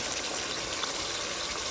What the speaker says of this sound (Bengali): এর ভিতরে দিয়ে দিব একটু পানি